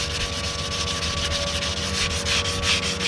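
Steady rubbing rasp of 320-grit sandpaper working over an aftermarket Vossen VFF-1 alloy car wheel during refinishing, close and continuous for a few seconds with no talking.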